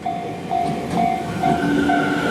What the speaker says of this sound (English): Everybody just has to stop and wait for the train to go by.